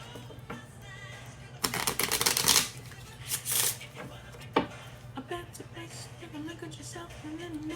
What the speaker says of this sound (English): All right, one last shuffle